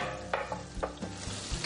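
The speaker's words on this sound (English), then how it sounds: "Stir it all up together and it should begin to sizzle" Butter sizzles and crackles in a hot pan for mushroom risotto, with soft scraping strokes as it is stirred.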